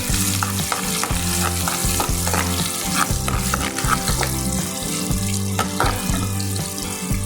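Garlic fries in hot oil in a pan with a loud, steady sizzle, broken by repeated stirring scrapes throughout, close up and with no talking.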